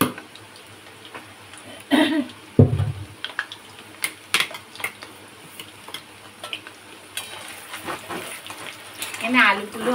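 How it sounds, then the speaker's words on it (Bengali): Potatoes fry gently in a pan with a soft sizzle, punctuated by spatula scrapes and clatter from stirring, while a person talks at times. "এখানে আলুগুলো আস্তে আস্তে করে ভেজে নিচ্ছি।"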